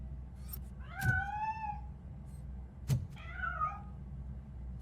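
A cat in the video game RoboCop: Rogue City lets out two distinct meows about two seconds apart, each a rising then falling wail that stands clearly above a quiet game ambience.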